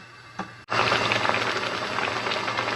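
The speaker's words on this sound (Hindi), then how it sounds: "चिकन बॉयल होने लग गया है" Chicken boils in a pot for ginger karahi, a steady loud bubbling and hissing that starts abruptly after a brief click and keeps going without talk.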